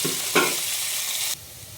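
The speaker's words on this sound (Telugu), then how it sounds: "ఉల్లి తరుగు వేసి వేయించాలి." Chopped onions and green chillies fry in hot oil with a loud, close sizzle and a stirring clatter, the hiss dropping abruptly near the end.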